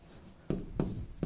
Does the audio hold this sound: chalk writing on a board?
yes